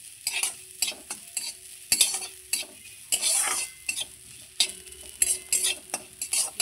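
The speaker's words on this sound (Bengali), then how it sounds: "এই চালটা আমি গোবিন্দভোগ চালটা 1 মিনিটের মতো ভেজে নেব" Gobindobhog rice stirred and dry-fried in a pan, with repeated scraping strokes of a spoon against the metal and a light sizzle, close and moderately loud, no one speaking.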